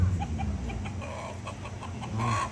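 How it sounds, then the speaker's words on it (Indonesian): Chicken clucking repeatedly at close range at a Toraja mangrara tongkonan ceremony in Lembang Sarapeang, short rhythmic clucks with a louder squawk near the end, before slaughter. "Oke, jadi ayam dulu yang akan dipotong."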